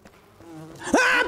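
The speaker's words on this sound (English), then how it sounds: "Ah, bees!" Buzzing of bees in the survival game Enshrouded, rising to a loud, close, wavering drone in the final half second after a quieter stretch.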